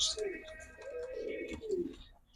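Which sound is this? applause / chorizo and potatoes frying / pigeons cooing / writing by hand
pigeons cooing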